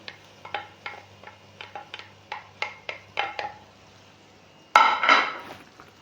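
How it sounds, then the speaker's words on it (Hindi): Radish pods (moongray) dropped into a pot of spices fried in oil: a run of light metallic clinks from a spoon on the pot, then a sudden loud burst of sizzling that fades over a second. "ये हमारी जो सब्ज़ी है मूंगरे ये इसमें डाल दूंगा मैं।"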